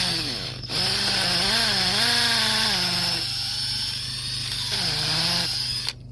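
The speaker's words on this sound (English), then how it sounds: "I got it set on the hammer drill setting." A hammer drill bores into clay for a fence post, its motor whining at a steady then shifting pitch under load, with a brief pause and restart, loud and close.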